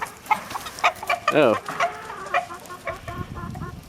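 Backyard hens cluck and a rooster squawks in alarm while a small dog chases it around the chicken coop, loud close bursts of fowl calls with a brief exclamation from a person.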